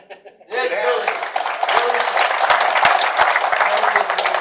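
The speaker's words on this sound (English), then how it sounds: "Thank you for the applause for those two wonderful young men." Audience applause at a lecture event swells after a brief voice at the start and holds as steady, dense clapping with scattered sharper claps throughout.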